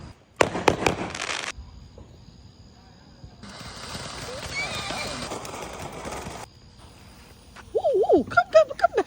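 Fireworks go off at a July 4th celebration: sharp crackling bursts near the start, then a stretch of hissing, fizzing sparks, followed by close, excited voices.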